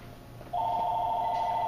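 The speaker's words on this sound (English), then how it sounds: "The phone's ringing, so you guys have to check who it is." A telephone starts ringing partway through, a steady, loud electronic ring tone that holds unbroken to the end over a quiet room, with no talking.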